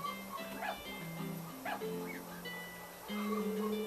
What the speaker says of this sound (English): It looks like we have some stray dogs here.